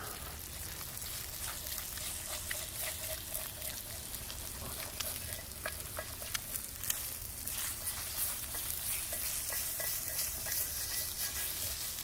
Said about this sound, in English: And time to scramble those eggs.